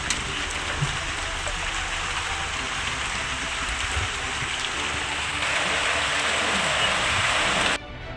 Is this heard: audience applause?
no